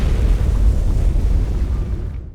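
Deep, roaring explosion aboard a submarine, a loud low-frequency rumble sustained throughout before fading out at the end.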